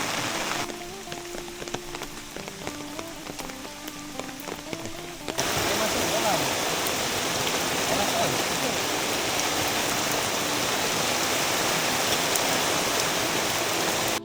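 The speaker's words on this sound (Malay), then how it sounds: "Hujan lebat." Heavy rain pours onto a tent at a campsite in thick bush. A lighter patter with some talking gives way to a loud, steady, dense hiss that continues to the end.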